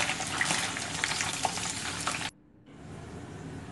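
Paneer (cottage cheese) cubes fry in a pan, giving a loud, steady sizzle with a few small pops. The sizzle cuts off abruptly, then returns softer and more muted.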